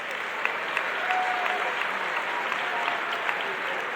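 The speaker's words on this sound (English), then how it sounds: "Let's give them a round of applause." Audience at the Millard South graduation ceremony in a hall applauding, a steady dense wash of clapping from many hands that holds even throughout.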